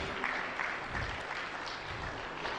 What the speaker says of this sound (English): You want to clap? Please do.